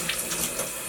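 Warm tap water streams steadily from a faucet over raw chicken pieces in a kitchen sink, a continuous hissing splash with no voices.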